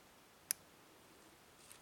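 A single sharp, faint click comes from a pin setting inside a 5-pin lock being picked, with a softer tick following near the end in an otherwise quiet room.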